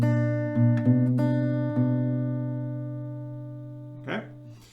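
Acoustic guitar plays the G-based part of a song, a handful of plucked notes ringing out and sustaining close by. A brief vocal sound near the end.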